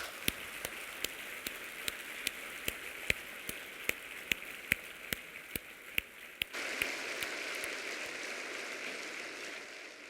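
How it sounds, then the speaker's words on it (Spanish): A few people clap at the close of a talk on social intelligence and values, thanking the speakers: distinct, evenly spaced claps for several seconds, then a denser, fuller patch of applause. "Gracias a los tres y un aplauso para ellos."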